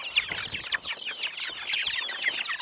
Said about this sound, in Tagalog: Pupunta tayo doon sa ranging area ng mga Rhode Island chickens natin